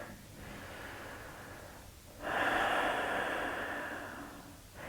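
Slow, deep breaths during a shoulder stretch: a soft, airy inhale, then a fuller, louder exhale through the nose and mouth, close and quiet.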